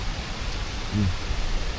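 Heavy rain falls as a dense, steady hiss filling the space, with a brief low thump partway through.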